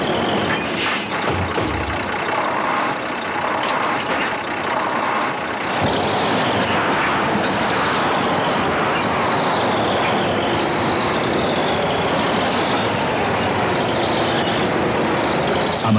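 Heavy trucks rumble loudly and continuously, with a dense, roaring engine drone and some higher mechanical whine filling the whole stretch without pause.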